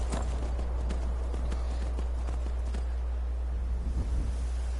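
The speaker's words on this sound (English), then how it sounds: "Daedric horse" Steady hooves of a Daedric horse clip-clop at a walking rhythm in Skyrim, a game mount, sounding fairly close over a constant low background hum, with no one talking.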